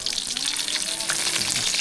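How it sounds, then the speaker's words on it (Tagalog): Pork meat frying in a pan, with a steady crackling sizzle and occasional stirring, close and continuous for a couple of seconds without speech. "Nagluto na tayo ng karning baboy mga bay. Yun. Prito natin mga bay yun."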